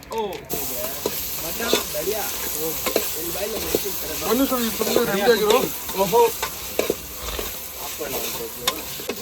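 Onions fry in a pan with a steady sizzle, and a utensil scrapes and stirs them in repeated strokes, close and fairly loud throughout.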